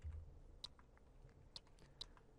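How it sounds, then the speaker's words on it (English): Keys on a computer keyboard pressed three separate times, sharp clicks spaced apart over a low background hum, close and fairly faint. "I'm pressing the arrow keys to move to the sides."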